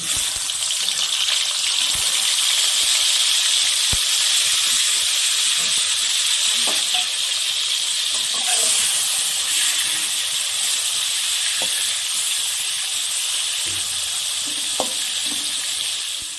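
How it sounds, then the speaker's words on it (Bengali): Pieces of dried ribbonfish fry in hot mustard oil, giving a dense, even sizzle and hiss that carries on without a break, with a few faint crackles and pops. No voices are heard. "এখন আমি এগুলোকে গরম তেলের মধ্যে ভেজে নেব।"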